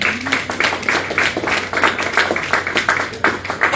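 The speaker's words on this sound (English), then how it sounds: "you can clap for that" An audience at a fundraiser claps steadily, a dense patter of hand claps filling the room at close range with no talk over it.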